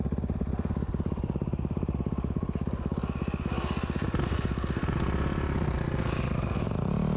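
An enduro motorcycle engine labours through mud on a rough dirt trail in Vietnam, a loud, close, continuous rapid putter that rises and strains as the rider pushes on, without talk.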